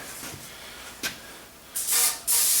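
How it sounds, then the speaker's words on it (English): Two bursts of aerosol cooking spray hiss loudly and close by, the second following right after the first, with a short puff just before them. "Take some vegetable spray."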